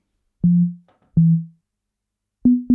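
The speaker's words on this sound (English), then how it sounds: "What we've got currently is just a standard sine wave." Four pure, low sine-wave tones from a synthesizer in Ableton Live 11 play one after another, each a clean note with a quick attack and short fading tail, the last two clipped close together.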